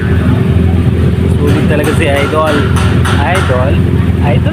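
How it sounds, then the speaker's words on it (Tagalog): A motorcycle engine runs steadily and loud throughout, its mid-pitched drone continuous beneath nearby excited voices talking over it. "pinaandar na talaga yung motor"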